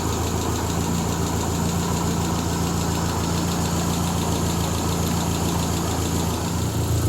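A classic car engine idles steadily at close range, a low rumbling drone with a faint ticking that fits an exhaust manifold leak, and no voices.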